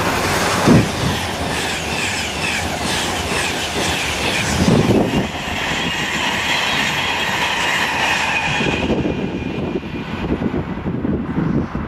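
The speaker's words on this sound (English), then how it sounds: "The next train at platform 4 does not stop here." A train rushes through Milton Keynes Central station at speed without stopping, loud and continuous, with rattling wheels, rumbling carriages and a faint squeal before it fades into the distance.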